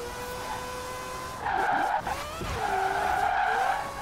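A car skids and its tires squeal as it corners in Forza Horizon 4, a loud wavering screech over steady engine drone, with a brief break partway through, close and alone.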